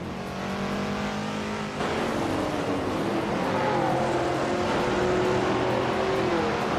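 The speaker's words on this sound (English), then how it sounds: "The race seems tight with a lot of vintage cars battling for position." Vintage race cars roaring around a track, several engines at high revs blending into a loud continuous drone with rising and falling pitch as cars accelerate and pass.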